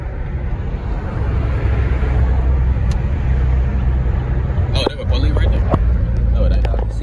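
A car driving along a country road, with steady loud engine and road rumble throughout, a brief dip near the end, and a few faint clicks and knocks inside the cabin.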